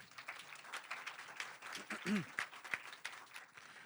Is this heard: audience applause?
yes